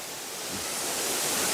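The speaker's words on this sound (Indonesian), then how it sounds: "Istimewa teman-teman, luar biasa air terjun ini ya" A hidden waterfall below a bridge at Cangar roars steadily with dense, broadband falling-water noise, close and continuous with no voices.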